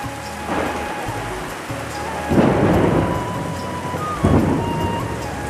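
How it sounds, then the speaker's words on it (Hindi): Steady heavy rain pours throughout at night in a Chhattisgarh village while thunder rumbles and cracks in three loud bursts, no voices present. "अब बिजली कड़कता है तो सुना"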